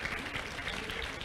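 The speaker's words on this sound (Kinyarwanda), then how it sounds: "tugiye kwakira Clement Inkirigito mumuha amashyi menshi cyane" An audience applauds for a comedian at a live show, a short burst of dense, fairly distant clapping.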